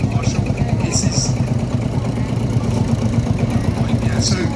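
Vintage Marshall tractor engine idling at a steam fair, a steady low throbbing chug, close and loud, with outdoor crowd noise and occasional voices mixed in.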